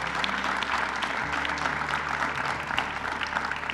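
Audience applause at the Rialto Hall of Fame 2013 ceremony, a steady, moderately loud wash of clapping from a seated crowd that holds evenly for a few seconds.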